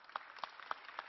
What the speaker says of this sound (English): Ladies and gentlemen, first of all, a round of applause to the panelists.